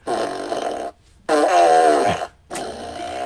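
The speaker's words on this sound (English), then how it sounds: "Give me the fart machine, please." Fart machine sound effect firing three times in quick succession, loud and close, each a long buzzy, flapping blast with a pitch sliding down near the end of the second, separated by short silences.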